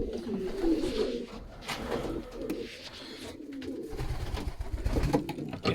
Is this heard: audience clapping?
no